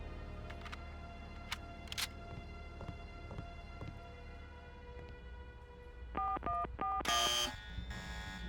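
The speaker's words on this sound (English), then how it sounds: "instant alarm for a wrong code" A wrong-code alarm in the Deus Ex video game sounds after a hum of background game ambience: a rapid series of tonal electronic beeps, then a loud, harsh alarm burst near the end.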